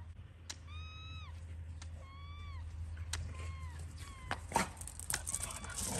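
Wet flip-flops squeak in a series of short, rising, cat-like whines, several separate squeals with small knocks in between, close and fairly loud over a steady low hum.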